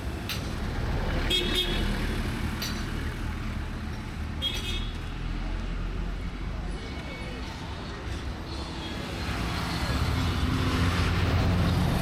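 Trucks and other traffic roll past on a dusty road, a steady loud rumble of engines with a few short horn toots, busy and close, and people talk over it.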